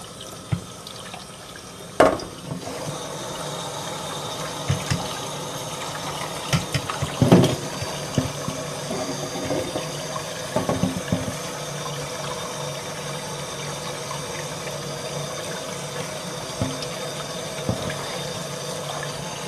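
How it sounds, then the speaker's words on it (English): Cold tap water pours steadily over beans in a colander in a kitchen sink, a close, even rushing hiss broken by a few sharp clatters and splashes. "So just going to run these under some cold water to rinse them off."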